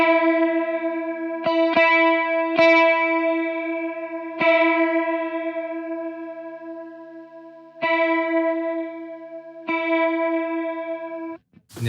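Electric guitar run through a chorus modulation effect, sustained shimmering notes and chords with several sharp new attacks spaced across the passage, played alone at steady loudness and cut off abruptly at the end.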